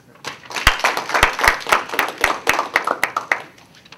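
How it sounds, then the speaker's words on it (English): Audience at an academic talk gives a speaker a round of applause, scattered individual claps building into a brief burst of clapping that thins out. "let's give him a round of applause"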